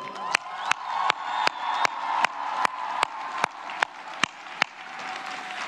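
A large crowd applauds during a public address to Ukrainians and Poles, steady distant clapping and cheering beneath a series of sharp, regularly spaced clicks or bangs.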